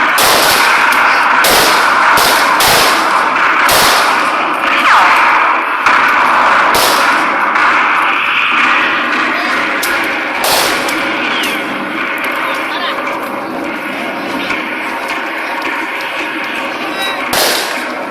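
Machine gun fire at a reenactment of the Battle of Manila, 1945, loud sharp bursts and single cracks in uneven rhythm, denser at first then sparser, under a continuous rumble with voices mixed in.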